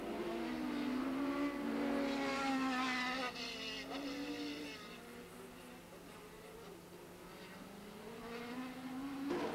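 1987 Formula 3000 race cars at the Jarama circuit, high-pitched engines wailing and shifting pitch as they pass, with a steady crowd or track hum beneath and a fresh engine rising at the end.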